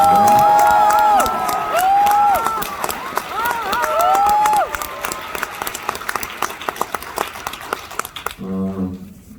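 A crowd at a political lecture in Busan applauds and cheers loudly, with whoops and shouts rising over the clapping before it thins into scattered claps.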